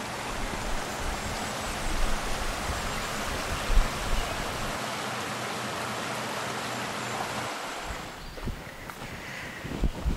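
A creek rushes steadily below a log crossing on a redwood forest trail, a broad constant wash of flowing water heard close, with a few faint rustles and footstep-like knocks near the end.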